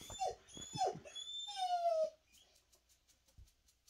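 A puppy whines beside a person in a room, several high, falling whimpers in quick succession, then a longer drawn-out whine, close and fairly quiet, followed by near silence.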